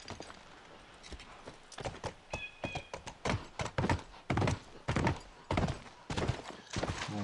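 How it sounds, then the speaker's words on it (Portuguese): Rapid hoofbeats of a horse galloping in the video game The Last of Us, a steady run of sharp thuds and clops, fairly close and clear with a brief snort, no talk over it. "Dá uma esticadinha até lá de cavalo que é rapidão."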